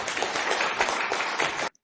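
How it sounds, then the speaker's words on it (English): Audience applause welcoming a guest onto a newscast-style stage, a brief, even patter of clapping from a small crowd that holds steady and then cuts off abruptly. "Please give a round of applause to our guest, Diana Cáceres."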